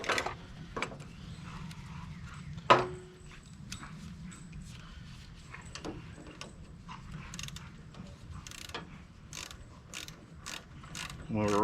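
A ratchet is worked on a John Deere 212 garden tractor during solenoid repairs, giving quiet, irregular clicking turns with one sharper metallic knock early on and a low background hum.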